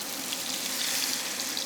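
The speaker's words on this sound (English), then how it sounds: "So you can see the garlic is sizzling away." Garlic sizzles in a pan on high heat, a steady, close crackling hiss with fine popping throughout, heard alone without talk.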